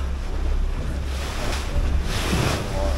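Ocean waves slapping against a charter fishing boat off Tenerife, a continuous loud rush of water and wind noise with no break.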